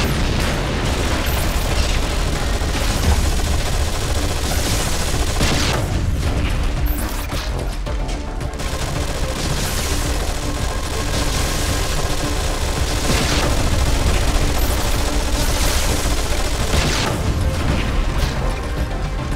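A squad keeps up continuous fire in the strategy game Anomaly 2, with loud overlapping bursts, booms and rattling mechanical clatter running nonstop and dense, some heavier blasts punching through the barrage.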